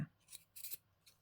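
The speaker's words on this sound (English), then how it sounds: "Let's get my fabric scissors." Fabric scissors snip through cloth being trimmed for a bed edge, giving three quick, faint, crisp cuts spaced apart in a quiet room.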